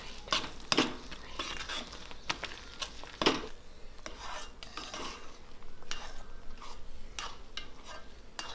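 Idiyappam rice flour dough being mixed in a bowl, giving soft scraping and rubbing strokes with a few sharper clatters, fairly quiet and irregular, with no voices.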